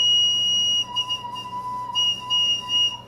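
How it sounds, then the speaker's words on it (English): A wooden multi-tone whistle sounds several steady pitched tones at once, sustained and briefly interrupted, fairly loud and close with no talking. "it's a multi-tone whistle"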